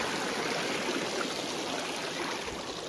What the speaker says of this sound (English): by this little babbling brook